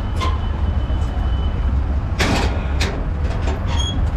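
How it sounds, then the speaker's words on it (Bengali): A CNG auto-rickshaw rides through Chattogram toward Foy's Lake; a loud, steady low engine rumble runs throughout, broken by a few rattling, door-like clatters, with no talking. "যাই হোক, সিএনজি তো উঠে গেছি"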